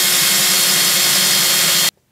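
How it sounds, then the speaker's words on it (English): A steady, loud whine of a power drill boring through a metal effects pedal case, continuous for about two seconds before cutting off abruptly into silence. "Drill the pedal case to fit the new switch."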